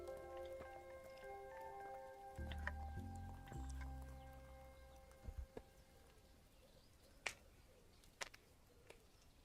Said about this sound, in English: That's my knuckles cracking.